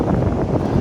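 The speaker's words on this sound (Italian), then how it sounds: "C'è un vento dell'ostia" Strong wind gusting and buffeting the microphone outdoors, a dense continuous roar with no pauses, close and loud.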